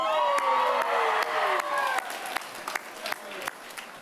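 Sustained clapping and cheering from a large audience at a Leeward Community College commencement, loud at first then thinning into scattered claps and whoops as a voice speaks over it.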